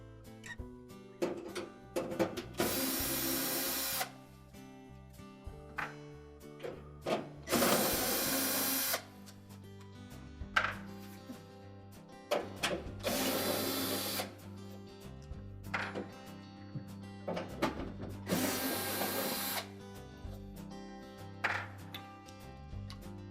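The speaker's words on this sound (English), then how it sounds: "Now we'll remove the 4 screws in the corner that secure the evaporator cover." A handheld power tool spins out the four corner screws holding a Whirlpool refrigerator's evaporator cover, four loud whirring bursts of a few seconds each separated by quieter handling clatter, close up with no talking.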